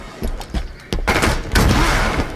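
Gunshots in the online multiplayer video game Halo 5: a few sharp reports at first, then loud, clustered bursts of fire that build in intensity toward the end.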